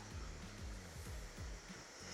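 A large waterfall roars as a steady, dense rush of falling water, loud and close, with no voices.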